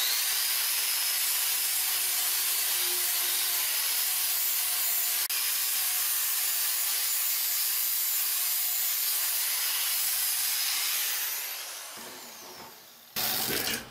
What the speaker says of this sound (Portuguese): vamos passar uma lixa e deixar bem bonitinho